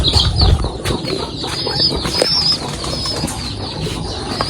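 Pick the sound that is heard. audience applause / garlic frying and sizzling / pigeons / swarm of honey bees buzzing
pigeons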